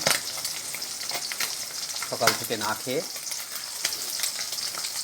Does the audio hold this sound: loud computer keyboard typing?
no